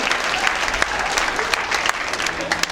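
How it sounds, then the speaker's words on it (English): Steady crowd applause with dense clapping throughout, loud and sustained, at a university dance marathon event, with some voices mixed in. "A big round of applause."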